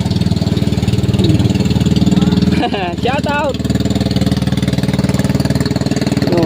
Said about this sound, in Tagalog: lakas ng makina